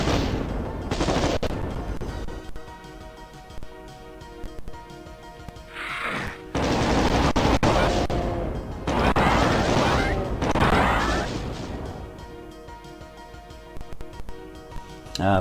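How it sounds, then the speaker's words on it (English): Plasma rifle fire in classic Doom 1 on PS4, with rapid repeated weapon shots and busy, loud combat noise across the whole stretch, and a voice talking at points over the action. "I'm going to have to switch to the plasma rifle this way."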